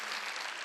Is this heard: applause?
yes